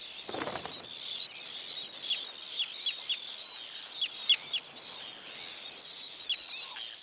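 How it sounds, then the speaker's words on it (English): Tern chicks at a North Sea colony give repeated thin, high whining calls in short separate bursts, some louder and nearer than others, over a soft background hiss. "The terns are now working at full capacity to satisfy the whining chicks."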